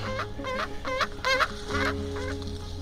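A male sage grouse at a nest beside a hen gives repeated rhythmic clucking, gobbling calls, about six bursts in under three seconds, close and clear over a steady low hum.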